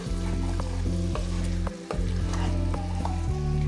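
Chicken with chopped coriander leaves sautéing in a pan for a desi chicken curry, a loud continuous sizzle broken by regular spatula strokes and one short pause, no talking.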